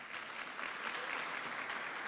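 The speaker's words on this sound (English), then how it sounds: "we can clap for him" An audience at a university management and law research day applauds a presenter after a talk, with faint, distant clapping that keeps an even texture through a brief moment.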